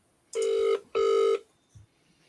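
Two bursts of a telephone ringing for a live call, each about half a second with a short gap, fairly quiet and clean with no talk over them.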